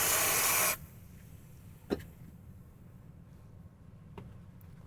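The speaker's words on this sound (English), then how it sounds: "Now if I take some of this freeze spray" Freeze spray hisses in a single short, loud blast onto a transistor in a Pioneer SX-1980 receiver amplifier, then cuts off, leaving a quiet background with faint clicks.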